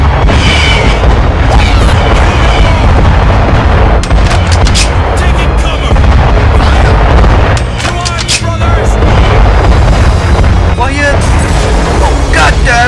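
Artillery and gunfire boom in a staged war battle: heavy blasts and cracking shots are spread irregularly across the scene, loud and dense, with voices talking over them.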